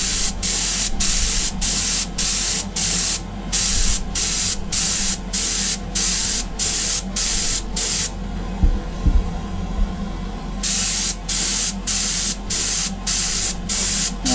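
An airbrush sprays base coat onto a Greek-style vase in a rapid series of short, even hissing bursts. A brief pause breaks the bursts midway before the rhythmic spraying resumes, loud and close.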